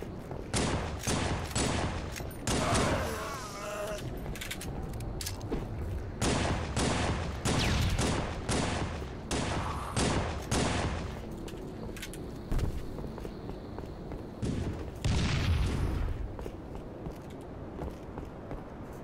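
Rapid bursts of gunfire and shotgun blasts from a Halo 3 zombie match on Xbox, dense and loud in clustered volleys, with short gaps and footstep-like thuds between the shots.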